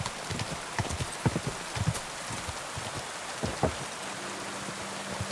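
In Kingdom Come: Deliverance 2, a steady hiss of rain falls in the open, mixed with clip-clop hooves from a horse and scattered drip taps.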